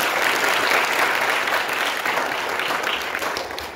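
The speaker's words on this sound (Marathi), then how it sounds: "एकदा जोरदार टाळ्या" An audience at a workshop inauguration breaks into loud, sustained clapping that holds steady and then tapers slightly toward the end.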